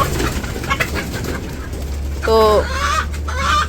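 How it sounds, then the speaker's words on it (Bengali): Laying hens on a village poultry farm give short rising clucks and calls at moderate distance, standing out for a few seconds over a steady low farm hum after brief speech. "আমরা এই ডিম পাড়া মুরগিগুলো বিক্রি করে দিয়ে"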